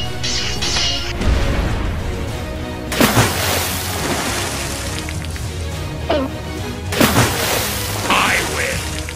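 A Fisher-Price Great Adventures toy pirate ship cannon fires two sharp booming bursts a few seconds apart, each with a crackling splash, over steady background noise and excited voices.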